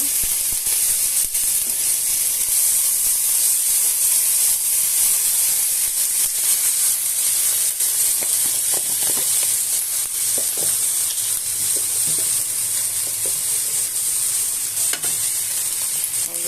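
Onion paste frying in hot oil with cumin and bay leaf tempering, a loud constant hiss and sizzle with a few faint stirring scrapes, close up and continuous throughout.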